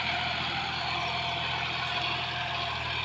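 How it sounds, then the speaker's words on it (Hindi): Steady, unbroken drone of a John Deere 5105 40 HP tractor engine working a cultivator at about 1600 RPM, heard up close with no voices. "क्या शानदार तरीके से चल रहा है ट्रैक्टर"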